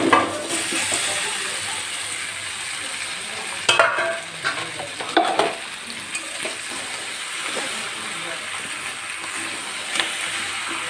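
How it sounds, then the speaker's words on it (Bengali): Egg-free vegetable pasta stirred and fried in a pan with vegetables, giving a steady, close sizzle with scraping and occasional clattering spoon-on-pan knocks throughout. "পাস্তাটা দিয়ে ভালো করে নেড়ে নিতে হবে।"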